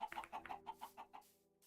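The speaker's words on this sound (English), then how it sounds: "Chickens everywhere." Chickens cluck in the video game Minecraft, a quick series of about eight short, quiet clucks in an even rhythm that trails off near the end.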